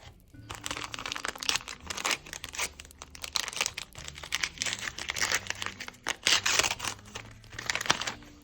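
Close crinkling and tearing of a paper surprise packet being ripped open, in irregular crackly bursts that continue for several seconds.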